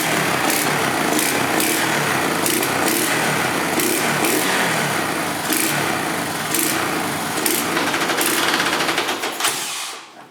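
A faulty quad bike engine runs roughly and loudly up close, buzzing with uneven pulsing surges before it sputters and cuts out at the end.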